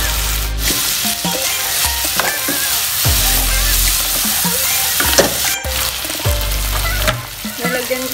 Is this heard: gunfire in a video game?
no